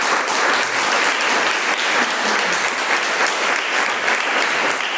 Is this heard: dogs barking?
no